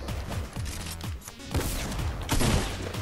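Rapid gunfire in a first-person shooter video game, a dense close burst of repeated sharp shots with crashing impacts over about three seconds, loud and continuous.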